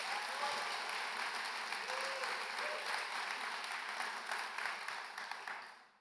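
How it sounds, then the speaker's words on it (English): A conference audience applauds a speaker introduced to talk about scaling the Base protocol, with steady, dense clapping throughout that fades out at the end. "Give him a round of applause, please."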